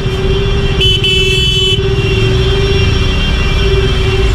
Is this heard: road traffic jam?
yes